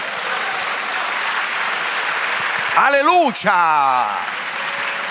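A church congregation claps steadily throughout, while partway through a man calls out loudly over the dense, continuous applause.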